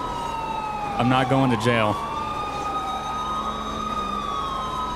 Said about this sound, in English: Oh, I hear sirens.